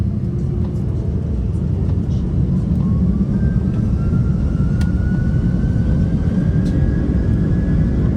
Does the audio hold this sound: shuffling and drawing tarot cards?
no